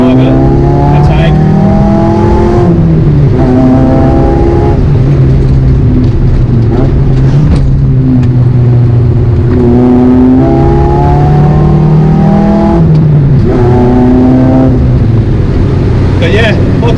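A race car is driven fast along a country road in the Hunter Valley full of tight corners, its engine loud and close, revving up repeatedly and dropping through gear changes, while someone talks over it.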